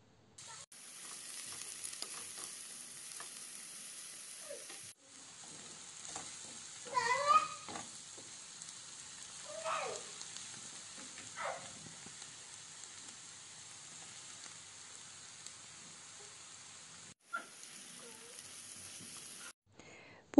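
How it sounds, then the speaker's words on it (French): Diced red bell pepper and onion sizzle in vegetable oil in a pan over medium heat, making a steady broadband crackle. A few louder stirring scrapes sound in the middle, and there is a brief break near the start and another near the end. "Je vais les faire cuire dans une poêle sur feu moyen dans laquelle j'ai mis à peu près 2 grandes cuillères à soupe de l'huile végétale."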